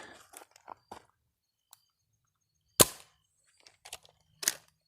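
A Dart Zone Adventure Force Ranger toy foam-dart blaster fires two loud, sharp shots outdoors at dusk, about a second and a half apart, with soft clicks of handling and loading before them.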